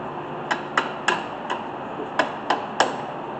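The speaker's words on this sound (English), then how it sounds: "Best thing to do is to take a hammer and kind of" A hammer knocks at brake parts on a 2002 Chevrolet Cavalier during a front brake and rotor job, giving seven sharp metallic taps at an uneven pace, fairly close and without talk.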